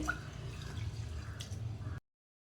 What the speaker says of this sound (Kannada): ಅಕ್ಕಿಯನ್ನು ಚೆನ್ನಾಗಿ ನೀಟಾಗಿ ಕ್ಲೀನಾಗಿ ತೊಳ್ಕೊಂಡ್ಬಿಡ್ತೀನಿ